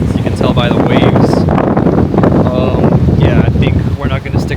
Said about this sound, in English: it's very windy, as you can tell by the waves